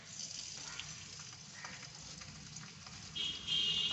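Ginger sizzling and frying in hot oil in a pan, a steady crackling hiss heard up close with no talking, growing slightly louder toward the end.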